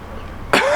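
A single sharp close cough from one person, loud and abrupt after a moment of low background hum.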